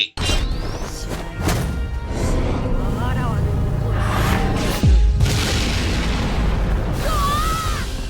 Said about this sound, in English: Another weak-ass Goku Spirit Bomb.